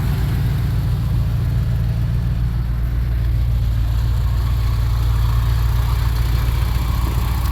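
An early car engine fitted with the first-version Voltarent ECU idles steadily, a loud continuous low rumble with a fine regular pulse, close up and alone, no speech over it.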